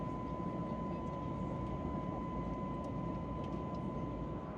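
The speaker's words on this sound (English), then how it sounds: "we will experience the moment when our plane pierces the cloud layer with its nose, rising above the clouds toward the sun" Steady broadband roar of a Ural Airlines Airbus A321neo cabin in climb through cloud, a constant loud engine drone with a faint tone, no talk.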